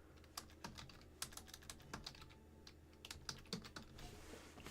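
Fingers tap a computer keyboard in an uneven run of quick, light keystrokes with short pauses, close by and quiet, with no talking.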